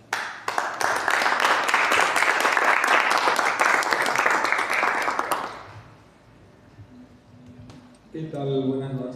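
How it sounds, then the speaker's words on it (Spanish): Audience at a book presentation of a digital-consciousness anthology in Paraguay, giving a strong burst of applause that lasts about five seconds and then fades, followed by a voice starting to speak. "un fuerte aplauso."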